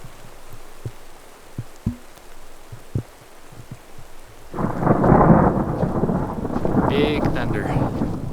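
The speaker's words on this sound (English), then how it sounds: "Big thunder." Loud thunder rolls in over heavy rain in the Ecuador highlands, a dense roar of downpour filling the second half after scattered drips and quieter rain at first.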